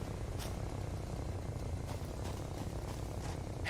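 A house cat purrs close by in a room during a Satisfactory livestream, a steady low rumbling purr running continuously and evenly without breaks.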